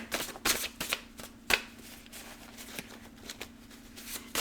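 A deck of playing cards being shuffled close by, repeated soft riffling rattles and flicks coming in irregular bursts over a low steady hum.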